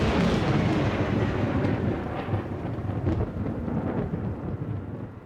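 Thunderstorm with heavy, steady rain and rolling thunder, a continuous loud wash of noise with deep rumbles swelling and fading throughout.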